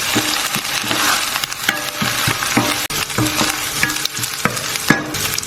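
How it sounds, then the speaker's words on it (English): Onions, ginger and garlic fry in a pan for an Indian beef and potato curry, a steady loud sizzle broken by regular scraping strokes of a stirring utensil, close up with no talking. "I'm going to go in with some ginger, garlic, and stir that through till it releases all its raw"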